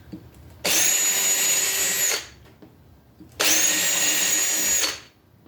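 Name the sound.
drilling pilot holes in metal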